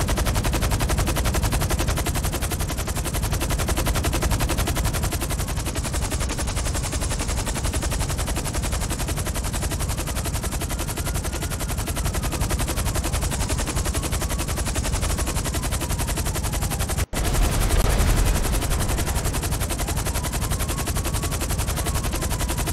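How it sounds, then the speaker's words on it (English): Sustained automatic gunfire from Grand Theft Auto V, dense rapid bursts running throughout at a steady loud level, with a sharp louder impact near the end. "somebody shooting at me?"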